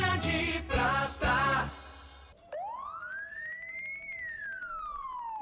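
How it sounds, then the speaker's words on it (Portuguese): A police siren starts abruptly after some preceding voices, wailing in one long rising-and-falling sweep, fairly clear and prominent against a quiet background. "Já pensou chegar no local do crime com essa sirene aí?"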